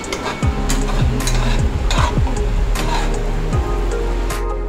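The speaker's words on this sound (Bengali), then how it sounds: "এই যে রান্না হচ্ছে, হেভি রান্না হচ্ছে আমার তরকা" Dhaba-style egg tadka sizzling loudly in a pan on the stove, a steady close hiss of frying broken by repeated scraping strokes of a spatula stirring the mixture.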